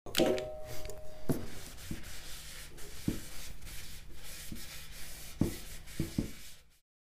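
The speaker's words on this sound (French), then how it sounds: "Avant d'enduire, je dois encore une fois dégraisser le réservoir." A cloth rubs and wipes across a sanded café racer fuel tank to degrease it, a soft continuous scuffing broken by a few light knocks and taps, close and quiet, ending abruptly.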